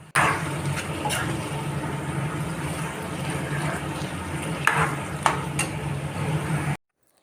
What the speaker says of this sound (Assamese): আলু দিয়াৰ পিছতো 10 মিনিটমান ঢাকি ঢাকি ভাজিম